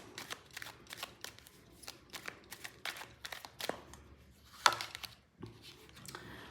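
Tarot cards riffled and shuffled by hand in a quiet room, a steady run of soft papery flicks and slaps, close and moderately quiet, with a brief pause before the shuffling resumes.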